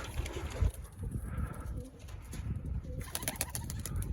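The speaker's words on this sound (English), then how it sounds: "These old birds with some of the young birds." Pigeons, a mix of old and young birds, coo softly against a busy outdoor background, with muffled rustling and low noise throughout.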